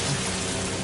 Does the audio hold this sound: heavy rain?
yes